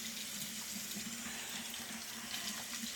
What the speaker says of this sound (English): the main reason why I film in here is because I wash my hands oh so much